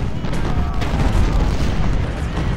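Cannon fire in the Civil War battle game Ultimate General rolls out as a loud, continuous low boom and rumble, with no distinct separate shots.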